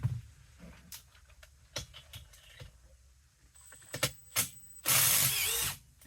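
An engine's cylinder bolts are checked with a wrench, giving sparse metallic clicks and ratcheting taps nearby, followed by a short loud burst of mechanical noise near the end.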